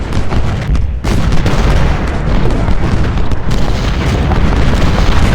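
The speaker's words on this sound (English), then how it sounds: "Yeah, from all the cannons and everything." Cannon fire in the Ultimate General: Civil War game at the Battle of Fredericksburg: a loud, relentless wall of booming artillery and crackling shots, heavy and continuous with brief dips.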